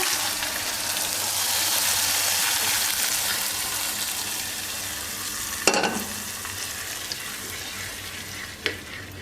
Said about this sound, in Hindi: बस अब इसको बंद कर देंगे गैस को, और ये तड़का डाल देंगे इसके अंदर